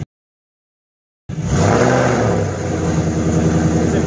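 A Camaro engine revs hard for a burnout, a loud, continuous roar that cuts in abruptly after a stretch of silence and holds steady at high revs.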